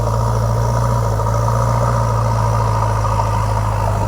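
A tractor engine runs beside a flooded field embankment, a loud, steady low drone at constant idle with no breaks.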